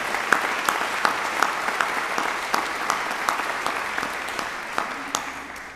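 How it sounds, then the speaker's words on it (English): Steady applause from a graduation convocation audience, many hands clapping in a dense, continuous wash with a few sharper nearby claps standing out, slowly tapering toward the end. "So let's give a round of applause for that."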